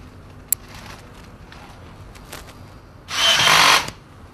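An electric screwdriver drives a screw into an aquarium cabinet for a Red Sea MAX S-650 reef system, a single loud whirring burst of about half a second near the end after quieter handling noises.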